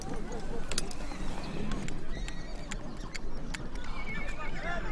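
A Mongolian horse neighs and whinnies repeatedly while hooves clatter and stamp, with voices talking underneath the busy, close commotion.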